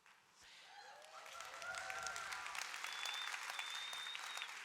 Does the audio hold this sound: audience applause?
yes